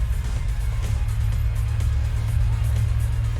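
Heavy trucks passing outside a room, a constant deep engine rumble that stays loud and steady throughout with no clear rise or fall.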